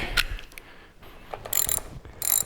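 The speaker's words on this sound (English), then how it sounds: "we have to take these little bolts out here that are attached to the carburetor" A ratchet backs small bolts out of a Harley-Davidson Sportster carburetor during a performance carburetor rebuild, giving close, bright clicking bursts with short pauses between them.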